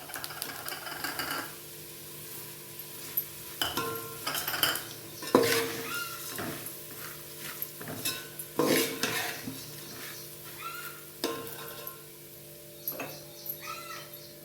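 A spoon scraping and clinking against a bowl while stirring a bhel mixture of puffed rice, farsan and spicy masala, in irregular bursts of metallic taps and scrapes, fairly close.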